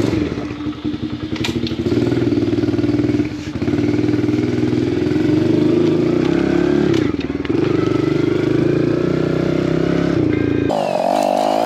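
Motorbike engine started and revved as it rides off, a steady mid-pitched drone with clattering thumps, loud and close before cutting off near the end.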